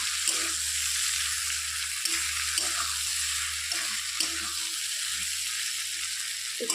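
Flat beans sizzle steadily in a hot pan while a spatula stirs them in repeated scraping bursts, close and fairly quiet.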